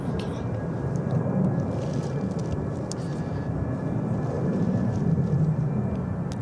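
A United Express plane taking off at SFO produces a continuous low, rumbling jet roar that holds steady and swells slightly toward the end.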